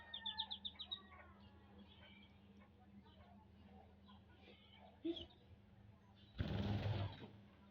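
Quails in a small farm coop give a few quick chirps, then go quiet before a short, close burst of fluttering wings near the end. The sounds are faint overall.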